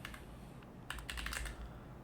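Typing on a computer keyboard while writing PyTorch code, a steady run of close, crisp key clicks with a denser burst of keystrokes midway, no voices.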